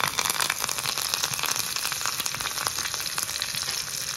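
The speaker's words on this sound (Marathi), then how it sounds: "आता ह्याला एक छान चुरचुरीत फोडणी देऊया" Oil heating in a pan for a South Indian tempering for udida kadbu gives a dense, steady sizzle with crackling pops, close and constant throughout with no talking.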